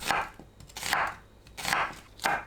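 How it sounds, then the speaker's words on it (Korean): A knife slices an onion into centimetre-wide strips on a board, with four crisp, evenly spaced cuts heard up close and no talking. "양파를 1cm 너비로 썰어주세요."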